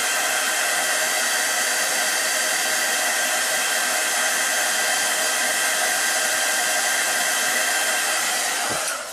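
Hair dryer blowing steadily to dry paint on a washed watercolour background, a loud continuous whooshing roar that runs without a break and cuts off at the end.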